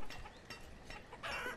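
Chickens clucking in the medieval town-building video game Banished, with several soft clucks over a steady ambient game soundscape and no talk.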